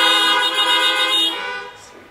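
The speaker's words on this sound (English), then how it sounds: "And honk one more time." Car horns honk at an outdoor drive-in church service: one sustained, loud blast of overlapping horns that holds for over a second, then fades away.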